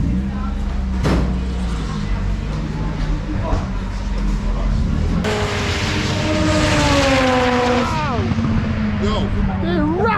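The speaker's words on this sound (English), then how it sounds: "Is this an NSX race car?" A Honda NSX time attack race car with a K24 engine swap drives past, its engine pitch sweeping up and down through gear changes while people talk nearby.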